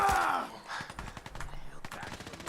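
Gunfire rings out in Fallout 4, with rapid, close bursts of shots rattling in a quick run and crackling on under a voice.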